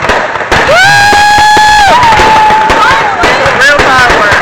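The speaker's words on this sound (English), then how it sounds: "Real fireworks." Fireworks going off at an outdoor display, with booming bursts through a continuous noisy crowd roar and loud whistling, rising tonal shrieks from the shells, near and steady throughout.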